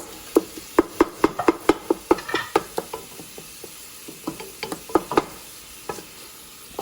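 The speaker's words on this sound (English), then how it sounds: "I'm just constantly stirring it and breaking it up on a medium heat." Ground beef browns in a pot over medium heat while a utensil stirs and breaks it up, making a run of sharp, rhythmic scraping taps over a faint sizzle, loud and close, with no talking.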